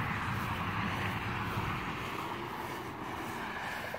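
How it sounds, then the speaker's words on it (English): A backhoe engine runs at a steady, fairly loud drone throughout, a continuous low rumble with no break and no talk over it. "It's a backhoe."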